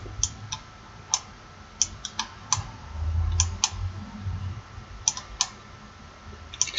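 Sharp, crisp clicks in irregular clusters, a few quick pairs and singles spread over several seconds, close by with a low background hum.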